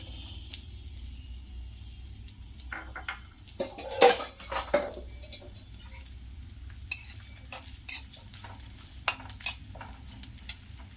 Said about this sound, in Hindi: तेल गर्म हो चुका है, इसमें मैं प्याज डाल दूंगी।